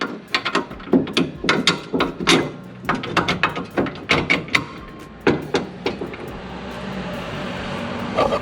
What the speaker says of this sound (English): So put this bolt in first.